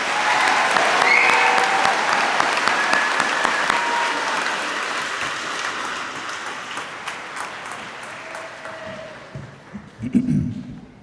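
An audience at a high school class of 2026 commencement ceremony gives loud, dense sustained applause. It slowly fades over several seconds, and a few scattered claps and a brief voice come near the end.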